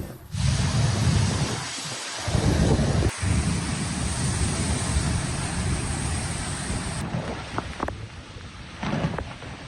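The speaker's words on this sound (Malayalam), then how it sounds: "ശക്തമായ മഴക്കൊപ്പം കാറ്റും ഇടിമിന്നലും ഉണ്ടായിരുന്നു." Heavy rain driven by wind during a thunderstorm, a dense roar of downpour with gusting, buffeting wind on the microphone, continuous and close for nearly ten seconds with no voices.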